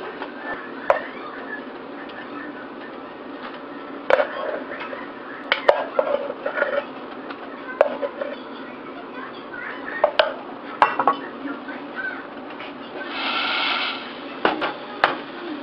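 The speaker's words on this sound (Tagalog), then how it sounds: "So hahaluin lang natin ang hahaluin hanggang maubos yung liquid." Sticky rice biko with jackfruit is stirred in a pot, giving intermittent utensil clacks and scrapes against the pot at an irregular rhythm, close and moderately loud.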